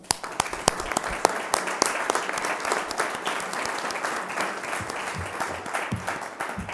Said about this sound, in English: I think we should give them a very big round of applause